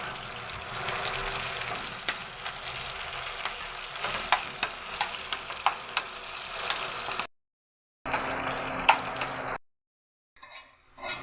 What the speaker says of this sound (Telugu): వంకాయ పచ్చి పులుసులోనే తాలింపు వేసుకోనండి